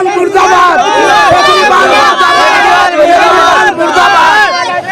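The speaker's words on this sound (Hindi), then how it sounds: "केजरीवाल मुर्दाबाद, गरीब के लिए केजरीवाल मुर्दाबाद के नारे लगाए जा रहे हैं।" A loud crowd of workers chants slogans against Kejriwal in unison at a protest, with many overlapping voices shouting rhythmic phrases continuously and close.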